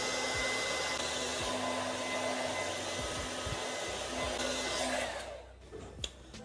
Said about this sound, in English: I think I'm gonna blow dry my hair.